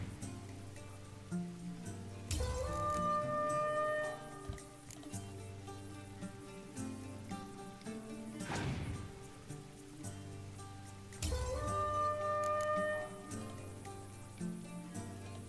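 A torrential rain weather effect from the Gwent card game in The Witcher 3 falls as soft, hissing rain under game music. Louder rushing swells rise at several points.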